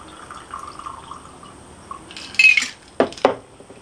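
A tequila sour poured out of a cocktail shaker: a soft trickle of liquid followed by a few sharp clinks and splashes close by, with no speech.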